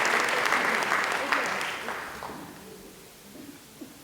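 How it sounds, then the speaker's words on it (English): An audience at an indoor staff awards ceremony claps loudly and steadily, then the applause tapers off to scattered faint claps. "Fire Captain Kenneth Smar, how about a round of applause for him as well?"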